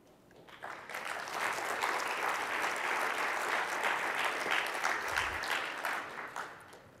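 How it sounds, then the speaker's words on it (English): A conference audience at Microsoft Build 2016 breaks into sustained applause, rising quickly, holding steady for several seconds of dense clapping, then fading out at the end. "Crowd goes wild at that point."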